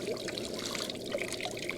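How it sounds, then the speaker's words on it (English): Steady stream of water running from a Companion portable hot water system, a continuous close splashing pour with no talking. "The water's coming out."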